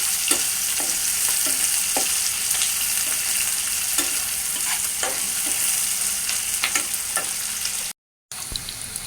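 Onion and garlic frying in a pan, a dense continuous sizzle with regular spatula taps and scrapes, close up and steady, then a brief dropout near the end before the sizzle resumes.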